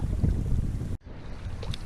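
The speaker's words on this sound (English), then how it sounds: "Today's definitely windy" Gusty wind buffets the microphone with a low roar, briefly dropping out before resuming.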